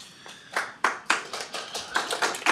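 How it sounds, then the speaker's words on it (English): Scattered hands clapping from an audience at a county board of commissioners public hearing, a sparse handful of sharp claps spaced irregularly, fairly close and moderately loud with no talking. "If you want to continue clapping, I will ask you to leave, okay?"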